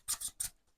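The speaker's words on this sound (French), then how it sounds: "Ce sont des cartes de manifestation tirées du livre Le Secret." Manifestation cards from a deck tied to the book The Secret being drawn and slid out, three quick crisp papery swishes close up with no talking, then stillness.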